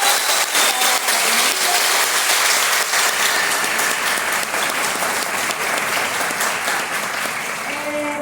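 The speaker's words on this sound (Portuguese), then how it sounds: "Então, uma salva de palmas." Audience applause in a university department gathering, dense steady clapping from a crowd that holds evenly loud for about eight seconds with no talking.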